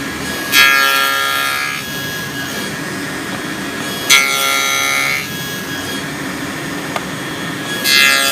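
Hand saw cutting wood for a box joint, three separate bursts of rasping strokes with quiet gaps between, close and fairly loud, no talking.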